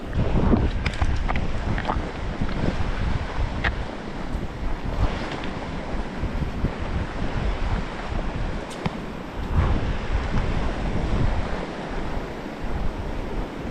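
Wind gusts over the Upper Madison River on a sunny, cool day, with steady rushing and buffeting against the microphone and water noise beneath. The sound stays loud and continuous throughout.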